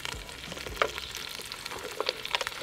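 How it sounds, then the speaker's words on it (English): Vegetables sizzle in hot oil in a pan, browning as the first step of braised beef cheeks; a steady close crackle with a few brighter spits and stirring knocks, no voices. "Oil's nice and hot. We want to get a little bit of color on the vegetables"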